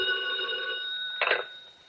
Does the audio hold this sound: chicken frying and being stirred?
no